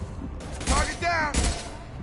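Bursts of rapid gunfire from the video game Mass Effect 2, two loud overlapping volleys of shots close by, with a voice layered over the firing.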